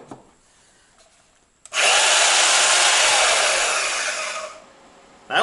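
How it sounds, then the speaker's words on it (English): A bandsaw running on an off-grid inverter system whirs up abruptly and holds a loud, steady buzzing drone for about three seconds before winding down. "Let's try this bandsaw."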